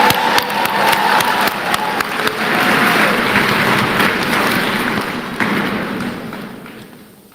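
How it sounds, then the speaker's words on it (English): Audience of graduates and families at a school district graduation ceremony applauding, loud dense clapping with scattered cheers and thumps that gradually fades out toward the end. "Graduates and family, please give Mr. Earl Lucas Jr. another round of applause."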